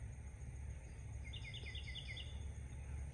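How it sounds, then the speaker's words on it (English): Faint bird calls drift in from outdoors as a brief run of quick repeated chirps over low background rumble, with no voices. "There are other birds out here."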